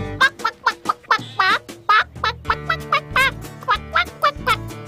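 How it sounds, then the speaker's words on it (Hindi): A hen in an animated movie clucks loudly in a quick, rapid series of about a dozen bright, rising and falling clucks, close and alone with no talk. "वो मुर्गी की भाषा बोल रही है।"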